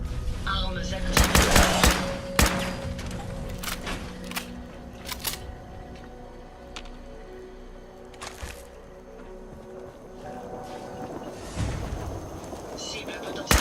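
Weapons fire in Fallout 4 Far Harbor crackles in rapid bursts of sharp shots, loudest early then sporadic, mixed with game tones and a synthetic announcer voice speaking.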